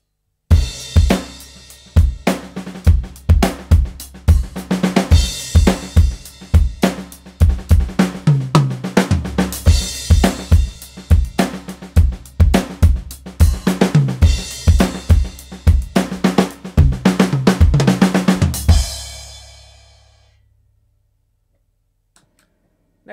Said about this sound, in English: I've created the same kit but with a ringy snare drum